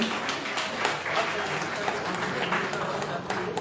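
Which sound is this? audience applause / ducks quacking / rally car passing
audience applause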